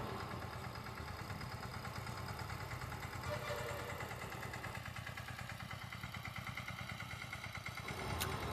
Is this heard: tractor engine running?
yes